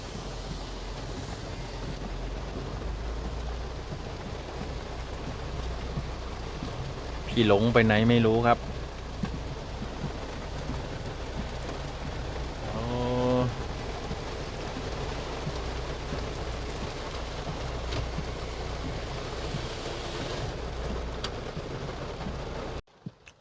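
Steady, even hiss of rain from a summer storm falls throughout, with someone briefly speaking twice over it.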